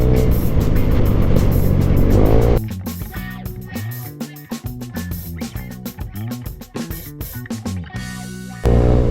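Vespa scooter engines drone loudly during a group ride, a continuous close motor roar with rising and falling revs and wind buffeting.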